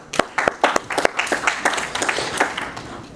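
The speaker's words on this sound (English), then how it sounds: "Everyone, please give a round of applause" A crowd at a Torah talk gives a round of applause, sharp distinct claps building into steady clapping, fairly close and loud with no talking.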